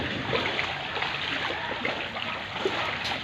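Floodwater from typhoon Ulysses rushes past near a highway, a continuous broad wash of flowing and splashing water, steady and fairly loud with no clear voices.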